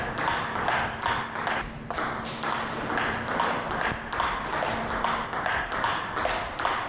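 Table tennis backhand short rally using Tenergy 05 rubber, with crisp ball-on-bat and table pings in a quick, even rhythm, roughly two or three hits per second, close and clear.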